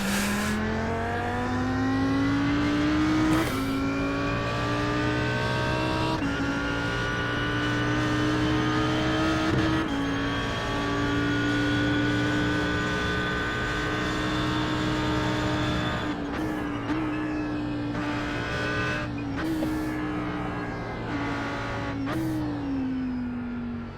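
Audi R8 GT3 race car engine in iRacing at the Nurburgring, a loud steady high-revving drone held in one gear with brief dips and blips on braking and downshifts throughout.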